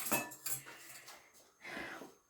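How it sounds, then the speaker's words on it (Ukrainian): A frying pan set on the stove while cooking cabbage patties, with close metallic clanks and scraping of cookware in a few short bursts, followed by a softer shuffling knock. "Сковорідку на вогонь, 2 столові ложки олійки"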